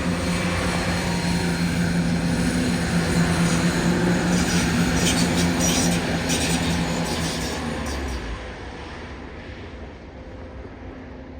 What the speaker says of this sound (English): now departing as 170-621 from Stansted Airport to Birmingham New Street